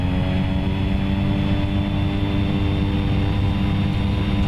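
Propeller plane engine in the X-Plane 11 flight simulator, running up RPM with flaps set for takeoff: a steady, loud droning hum with a constant tone throughout and no speech.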